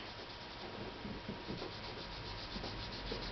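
Drawing medium is rubbed steadily onto paper to darken an area, a close, continuous soft scratchy rasp with no talking.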